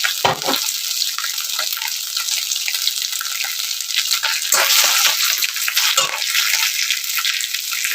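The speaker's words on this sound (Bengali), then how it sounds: "এখন জল দিয়ে দিলাম।" Water poured into a simmering fish curry in the pan, a steady hissing, sizzling splash lasting several seconds, close and fairly loud, with no speech over it.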